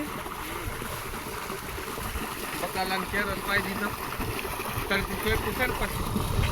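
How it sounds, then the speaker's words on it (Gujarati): Water pumped by a running motor flows along a farm channel with a constant rushing, trickling wash close by, under talk. "અહીંયા જો આપણે મોટર પણ ચાલુ છે"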